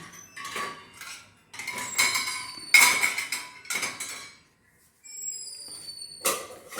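Plates and dishes clattering as they are stacked into a home dishwasher, a series of sharp ceramic clinks and knocks in irregular bursts with short pauses between, close and fairly crisp.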